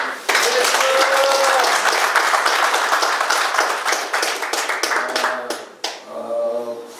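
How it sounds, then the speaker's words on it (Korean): Loud, dense applause from an indoor audience at a 2018 KTPGA golf pro training and continuing-education graduation ceremony, sustained for several seconds before tapering, with a voice speaking briefly near the end. "박수 한번 부탁드리겠습니다"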